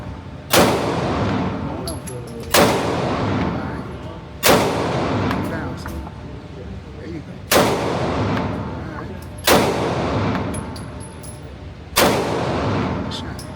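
Six single shots from a Masada 9 mm pistol ring out at a shooting range, each loud sharp crack spaced roughly two seconds apart and followed by a long echoing decay.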